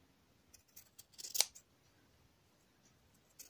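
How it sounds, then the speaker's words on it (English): Scissors snip through fabric for a small punch needle pillow, giving a brief cluster of quiet, close crisp cuts with one sharper snip in the middle and a faint extra snip at the end. "And then I'm going to cut that about a half inch"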